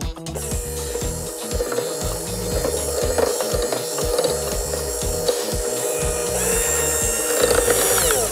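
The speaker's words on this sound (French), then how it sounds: "Puis on va mélanger jusqu'à temps qu'on ait une belle pâte homogène." Dry ingredients being mixed into cake batter with an electric mixer: a continuous loud motor whir with rhythmic scraping and churning, steady and close, without speech.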